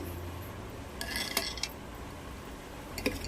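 Tempering stirred into a pot of leafy greens (amaranth and spinach-like chukka kura) for a tangy greens stew, giving a few soft metallic scrapes and clinks of a spoon against the pot over low background hum.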